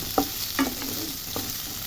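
Chopped potatoes are stirred and fried in a pan at home, with a steady sizzle and a few scraping strokes of the spoon.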